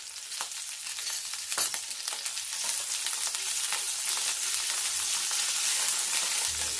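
Okra fries in hot oil with a steady, close hiss of sizzling that grows slightly fuller over time, broken by occasional sharp pops and spatters, with no talking.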